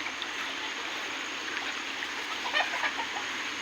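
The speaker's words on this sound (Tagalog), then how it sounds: "Ang lalaki na ng manok ha." Chickens cluck faintly and intermittently against a steady rushing background like running water, with a few short calls near the end.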